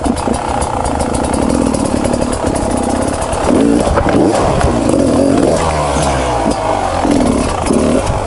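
An enduro motorcycle fitted with a gummy tire, engine revving in quick double blips for a wheelie off a wooden obstacle; a steady mid-pitched engine drone rises and falls in short surges, close and loud, with no talking.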